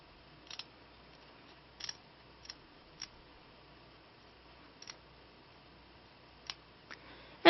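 Small scissors make sparse, crisp snips, about nine faint cuts spaced unevenly, while trimming the backing of a bead-embroidered headband in an otherwise quiet room.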